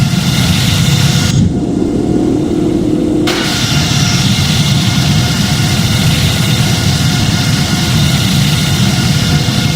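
Boeing 787-9 jet engines spooling to takeoff thrust in the Project Flight video game, a loud, continuous low roar and rumble filling the whole stretch with a brief dip in the hiss early on, no speech.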